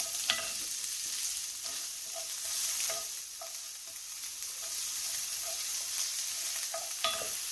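Shallot and onion frying in oil, a bright hissing sizzle throughout with occasional light spatula clicks and stirs, fairly soft and close, heard alone without speech.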